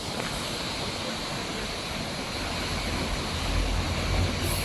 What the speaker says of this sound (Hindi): ये ऊपर से एक छोटा सा झरना आ रहा है, आपको आवाज़ भी आ रही होगी इसकी